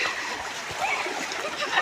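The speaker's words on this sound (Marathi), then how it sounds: "खूप आहे पाणी वाहतं पाणी आहे" Shallow stream water runs across a footpath in the Konkan countryside, a soft close splashing and trickle that continues briefly and alone.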